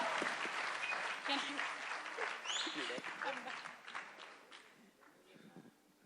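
Applause from an audience at a film trailer launch, greeting a guest, clapping moderately dense, with voices over it, and the clapping fading out gradually over the last seconds.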